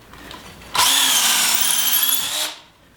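A power drill bores into wood while framing a compost toilet, a single loud whirring burst of close grinding that lasts about two seconds before it stops.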